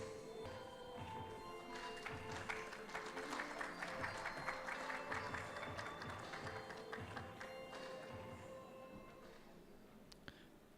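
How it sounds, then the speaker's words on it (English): An audience at an awards ceremony applauds steadily, producing dense, sustained clapping that swells and then gradually fades near the end, heard faintly and at a distance with a little background crowd noise. "a round of applause for our guest of honor"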